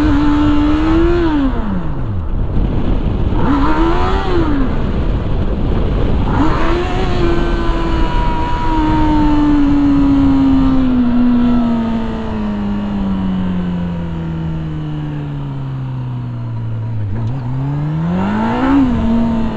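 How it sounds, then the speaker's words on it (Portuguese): A motorcycle engine revs hard and swoops in pitch, climbing and dropping as the bike slides sideways, then holds a long falling whine before revving again, close and loud. "A moto saindo de banda aí."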